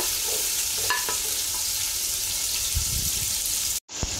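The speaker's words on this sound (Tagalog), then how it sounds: "magigisa na tayo ng bawang sibuyas. Unahin muna natin yung sibuyas." Onion sautéing in a pan for pansit chop suey: a soft, steady sizzle with a few stirring clinks, then a brief dropout near the end.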